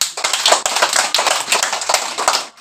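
Students clap their hands together in a quick, steady run of sharp, close slaps at a school, the claps packed densely and continuing throughout without talk.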